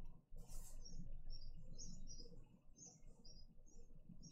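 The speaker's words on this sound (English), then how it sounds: "Yeah, I got some nice birds in the garden." Small garden birds chirp and tweet in short, repeated high calls against a quiet background, with a soft low hum underneath.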